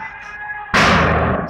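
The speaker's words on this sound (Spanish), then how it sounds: "Está disparando. Nunca había visto a alguien disparando." During street disturbances in Santiago, Chile, a single sharp gunshot cracks out at close range after a quiet moment, leaving a loud, ringing burst of noise.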